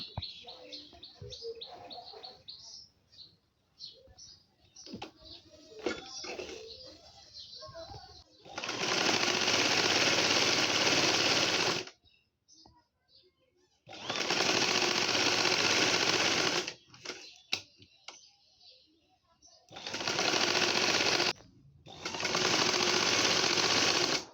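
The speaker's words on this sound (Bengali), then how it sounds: "এখন আমি এই সাইড দিয়ে একটা সেলাই করে নিব আমি" A sewing machine stitching a frilled Naira-style burqa, with four loud sustained runs of dense rapid whirring, each several seconds long and separated by pauses filled with birds chirping, rustling and faint voices.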